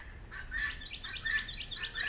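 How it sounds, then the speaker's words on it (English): Several small birds sing outdoors in early spring, bright repeated chirps and short trilling phrases coming in quick bursts at moderate distance over a quiet background. "The birds are singing."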